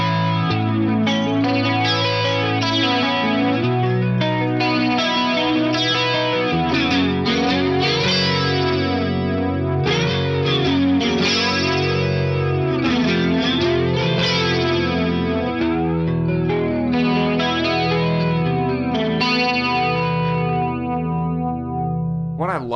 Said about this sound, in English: This is based on a Boss BF2 flanger in here, and I'll just let you hear the settings that I've got it at the moment.